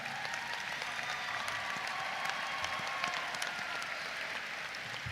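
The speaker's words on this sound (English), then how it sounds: "please show your thanks and applaud these dedicated individuals who've guided you along your journey" Sustained applause from a commencement audience honoring faculty, dense steady clapping from a large crowd that fills the hall for several seconds without letting up.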